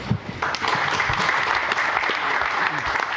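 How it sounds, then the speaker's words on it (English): A live audience at Podapalooza 2008 bursts into applause, a brief voice at the start giving way to sustained, full clapping from the crowd close by. "So that you guys would applaud for that."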